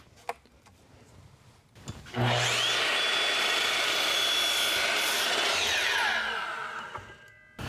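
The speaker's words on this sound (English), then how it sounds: "we're going to go over to the miter saw. So all we need to do is cut out a square." Miter saw spinning up and cutting a wooden fence picket, one loud sustained whine lasting about four seconds with the blade biting through the wood, then winding down, close up.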